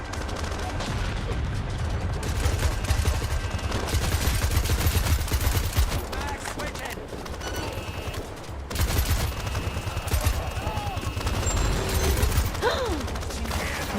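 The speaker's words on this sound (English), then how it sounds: "Stop shooting me!" Dense, continuous video game gunfire from the crime shooter Crime Boss, rapid overlapping shots and mechanical clatter forming a loud, steady barrage that barely pauses.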